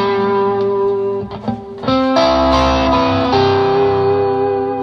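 An electric guitar with a crunchy overdrive tone rings out in sustained chords and notes, changing shape about halfway through, loud and close with no voices, played in a home studio.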